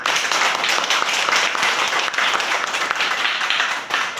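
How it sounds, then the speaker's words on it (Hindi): An audience at a network marketing speech event in Doha, Qatar breaks into loud, dense applause, many hands clapping together in a continuous roar without a break. "आप सबको सबके लिए जोरदार ताली।"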